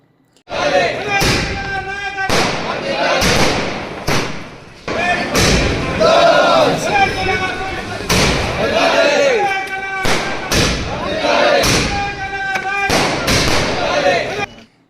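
Firecrackers burst at a political victory celebration outside an MLA's office in Secunderabad Cantonment, with a dozen or so sharp, loud bangs at irregular intervals. A crowd talks and cheers underneath.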